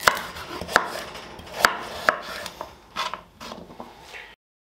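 A kitchen knife chops potimarron squash into small cubes on a board, giving sharp, evenly spaced close-up thuds that slow and soften before stopping.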